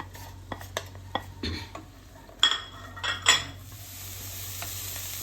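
Chopped onions sautéed in oil in a hot pan for chicken cutlets, with scattered spoon scrapes and clinks against the pan and a soft, steady sizzle building toward the end. No one speaks.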